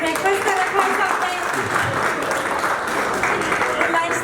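Audience clapping at a medical lecture on neonatal respiratory distress, a dense, loud burst of applause filling the whole stretch, with some voices mixed in.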